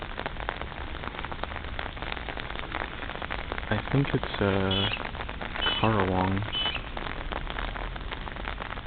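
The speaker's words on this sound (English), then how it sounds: "The rain has actually just picked up, which is very fortunate." Steady rain patters on surfaces outdoors in a continuous dense hiss, while a bird gives a couple of loud calls and a person speaks briefly nearby.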